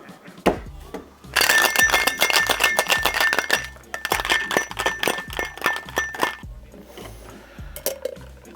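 Ice cubes tumble into a glass for a Jim Beam Christmas cocktail, making a dense burst of bright clinks and knocks that lasts several seconds and then thins out to a few scattered taps.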